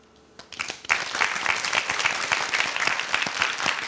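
After a few scattered early claps, an audience bursts into full, even applause for the contenders on a corporate hiring competition show, sustained and moderately loud.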